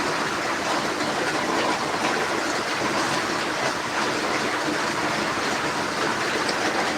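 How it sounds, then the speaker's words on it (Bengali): Heavy rain pours steadily near a goat shed, a dense, unbroken hiss of water that stays loud and even throughout with no voices. "আজকে আমাদের দুহারে অনেক বৃষ্টি প্রচণ্ড বৃষ্টি হতেছে"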